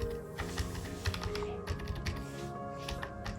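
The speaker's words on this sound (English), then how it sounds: "The keys are really good and have a pretty good bouncy response to it." Fingers type on a Portronics KEY2 COMBO wireless keyboard with bouncy keys, producing quick irregular clicks and soft taps in bursts, close and moderately quiet, without speech.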